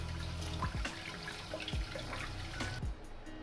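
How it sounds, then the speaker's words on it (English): Cold water runs steadily from a tap over strained cooked chicken with a broadband splashing hiss, broken by a few brief clunks and thuds, then cuts off near the end. "run it with cold water just to stop it from cooking"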